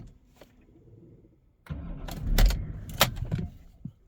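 A BMW E60 with an intermittent no-start fault cranks with a short starter whir, and the engine catches into a close, rough, uneven rumble, with clicks before and during starting.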